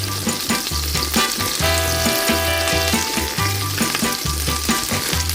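Sausages for bangers frying in oil and melted butter, a loud continuous close-up sizzle and crackle with low rumbling hum underneath.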